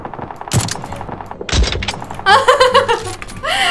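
Bursts of rapid game gunfire crackle in short volleys, loud and close, with sharp impact thuds between them.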